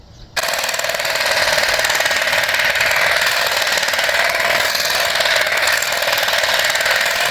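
A small lawn trimming machine cuts grass, starting abruptly and then running in a loud, steady, high buzzing drone close by.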